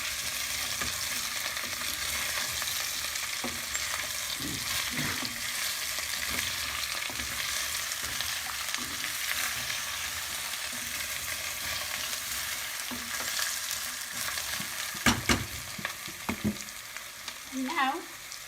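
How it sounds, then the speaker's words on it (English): Potato curry is stirred in a pan over continuous frying sizzle. Scraping strokes come in an irregular rhythm, with a few sharper clacks of the utensil near the end. "To give this a stir."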